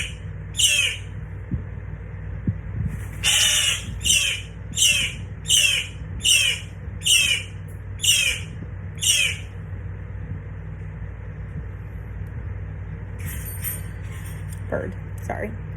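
A bird squawks loudly and close by: two short calls, then a rapid run of about eight harsh, evenly spaced squawks, followed by a quieter stretch with a faint call near the end.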